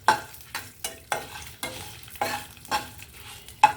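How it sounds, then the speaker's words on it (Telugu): Red chillies frying in hot oil with fenugreek seeds, a steady sizzle broken by regular bursts of scraping and stirring roughly every half second, close and clear with no talking. "మిరపకాయలు వేగాలండి పూర్తిగా, ఆ వేడి చాలండి ఇంగువకి."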